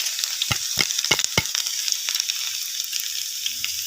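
Chopped desi garlic crackles in hot oil as a tadka for a Hazara-style curry. Several sharp close utensil knocks come early, then a fainter, softer sizzle.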